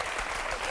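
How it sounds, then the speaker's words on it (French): A TV studio audience applauds Jack Lang on a French talk show, a brief burst of dense, steady clapping from many hands at moderate level. "On applaudit Jack Lang."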